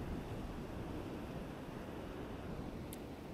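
Strong sea waves surge onto the shore during a handline fishing trip, heard as a faint, continuous rushing wash mixed with wind, steady and without distinct breaks.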